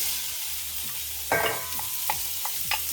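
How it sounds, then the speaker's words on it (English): Shallots frying over medium-low heat in a pan where chicken was just browned, a close sizzle broken by several sharp scrapes and taps of stirring. "shallots. Fry that off."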